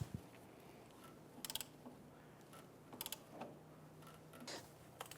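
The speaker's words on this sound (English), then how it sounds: "I'm going to go ahead and press this ball joint into the axle tube." A ball joint press tool pressing a lower ball joint into the axle of a 1999-2004 Jeep Grand Cherokee, faint and close, giving brief ratcheting clicks in small clusters over low background noise.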